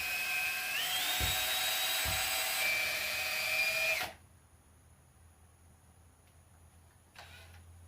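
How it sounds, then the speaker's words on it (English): A power drill fitted with a mixing wheel whines steadily as it stirs thick Lizard Skin coating, rising in pitch near the start, then cutting off abruptly at about four seconds, followed by quiet room noise and a brief faint rustle. "I'm just going to throw it in my drill,"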